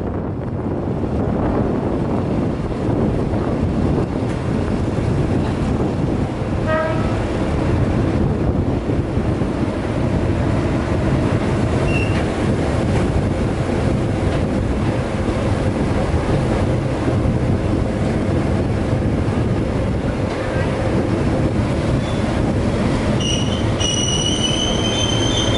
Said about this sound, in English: Then the train arriving Kuala Lipis Station, which is the real end of the East Coast Shuttle.